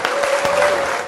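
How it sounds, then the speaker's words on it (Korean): Brief burst of studio applause, a dense wash of clapping with a steady tone running through it, over about a second at even loudness. "박수!"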